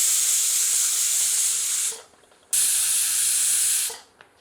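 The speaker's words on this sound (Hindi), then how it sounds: "प्रेशर कुकर की भाप स्वतः मुक्त होने देते हैं" A pressure cooker holding goat mutton curry lets off steam in two strong, steady hissing bursts. Each lasts about two seconds and is cut by a brief quiet gap.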